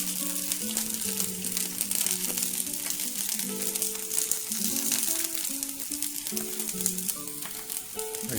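Asparagus frying in oil in a stovetop pan gives a steady, fairly quiet sizzle and crackle that runs throughout, with a tuneful melody playing underneath.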